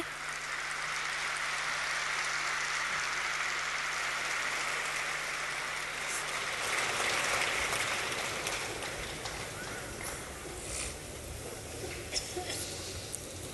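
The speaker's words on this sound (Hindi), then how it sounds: "और जोर से ताली बजाइए।" An audience at a spiritual gathering claps loudly, a dense, sustained patter of many hands lasting over ten seconds and gradually thinning toward the end.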